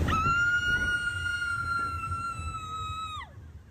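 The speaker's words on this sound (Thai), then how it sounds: "นี่แค่ด่านแรกเองนะคะ ยังกรี๊ดสนั่นเลย" Riders on a Disneyland river raft ride let out one long, loud, high scream that holds steady for about three seconds and then drops away, over a low rumble of rushing water.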